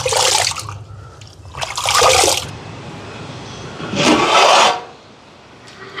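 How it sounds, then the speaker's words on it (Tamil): Water splashes and sloshes in three bursts with pauses between as rice is washed and swirled in a pot. "அரிசியை கழுவி எடுப்போம்."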